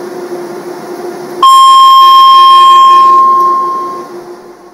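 Public transport in Cyprus sounds a piercing, high-pitched electronic beep of about 2,200 Hz. It starts abruptly over a low rumble, holds loud and steady for around three seconds, then fades out.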